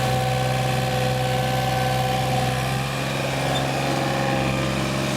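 A 2003 John Deere 3235B fairway mower with a Yanmar 3TNE84 diesel engine spins its tires in two-wheel drive, giving a steady, close diesel drone with a constant low hum throughout.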